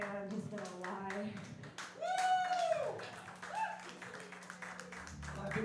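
Audience applause at a live band show, scattered and uneven claps running under voices and shouting.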